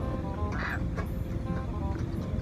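Noisy, harsh squawks from sun conure parrots burst out a few times over a constant background rumble, moderately near, with faint chatter in the mix.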